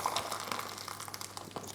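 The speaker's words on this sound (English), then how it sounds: "I'm just going to pour out 1000 ml, which is 1 litre, so let's just quickly pour that in there" Boiling hot water, one litre, poured steadily into a pot for pumpkin soup, a continuous close gushing splash with bubbling texture throughout.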